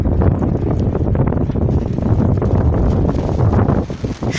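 Strong snowstorm wind gusts hard and steadily into the microphone outdoors in Moscow, a loud continuous roar and buffeting with no break across the whole stretch.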